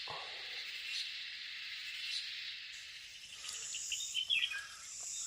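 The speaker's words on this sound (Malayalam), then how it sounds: "ചീവീടുകളുടെ വേട്ടയാണ് കേൾക്കണേ," Cicadas drone in a continuous high-pitched buzz throughout, fairly faint and distant, with a few faint chirps near the end.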